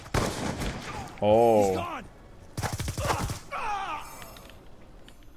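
Gunfire in the video game Destiny, sharp bursts of shots mixed with game sounds and a brief exclamation from a player.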